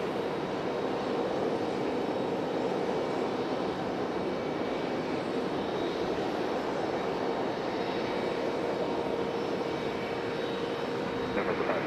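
A plane taking off from runway 23 left at Raleigh-Durham airport, a steady broadband engine roar that holds at constant loudness throughout, heard from a distance without talk.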